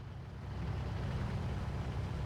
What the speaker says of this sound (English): The scout car is an excellent recon vehicle.